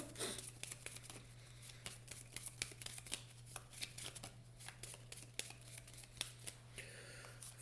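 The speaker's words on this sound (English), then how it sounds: "And I get to shuffle them into my deck now." Marvel Legendary deck-building cards being shuffled into a deck, heard as soft, rapid papery flicks and riffles that continue for several seconds, faint and close, with no talking.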